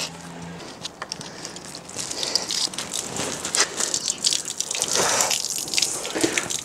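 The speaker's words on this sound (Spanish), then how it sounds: "La escama impedía que saliera el agua. Ahora ya está saliendo de borbotones." Water gushes and splashes out of a full scooter fuel tank once a large flake of rust stops blocking it, a continuous, uneven close splashing flow.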